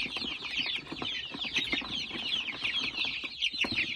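Many chicks cheep together in a dense, continuous high-pitched chorus, close and moderately loud.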